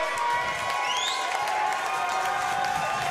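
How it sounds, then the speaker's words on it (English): Packed MMA crowd at JJ's Live cheering and applauding a 135-pound title win, a dense continuous roar of voices and clapping that stays loud throughout, with a few whistles rising above it. "The capacity crowd here at JJ's Live showing their support for the champion."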